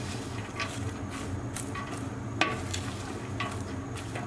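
Onions cooking in a pan over low to medium heat for French onion soup, giving a steady soft sizzle with a few stirring scrapes and one sharp clink, close and without talk.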